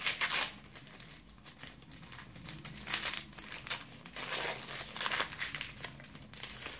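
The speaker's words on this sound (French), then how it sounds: "Toujours du papier cadeau Elsa." Gift wrapping paper being torn and peeled off a surprise package, giving steady loud crinkling and crumpling with bursts of tearing throughout, close up with no talk.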